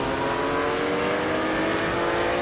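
A 1960s Daytona race car engine at Kyalami in a racing video game roars loud and continuous, a buzzing high-revving drone held at full throttle with no voices.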